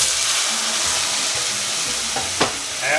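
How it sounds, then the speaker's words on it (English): Water poured from a kettle into a hot pan of toasting couscous hisses and sizzles loudly and steadily up close, with a brief clink near the end and no talking. "let's get that water in the couscous"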